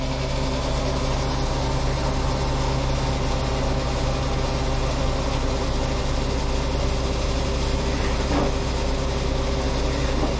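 A motorcycle engine idling steadily at a fuel station in Dolores, Magalang, Pampanga, a continuous low rumble running unbroken throughout, with no talking.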